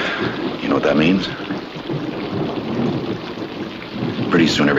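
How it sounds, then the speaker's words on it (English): Steady rain with rumbling thunder in a wartime setting, a continuous broadband wash of falling water that swells louder near the end, with no clear talk over it. "It's beginning to rain."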